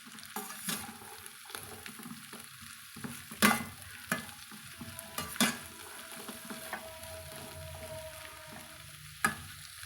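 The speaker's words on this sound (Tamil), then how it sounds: "நல்லா இது சுருண்டு வதங்கி வர அளவுக்கு நம்ம பொறுமையாக மெதுவாக தீ வந்து வச்சு வதக்கணுங்க." Pirandai (adamant creeper) sautéing in a pan for pickle, a continuous soft sizzle with occasional spoon scrapes and knocks against the pan, close and alone without talk.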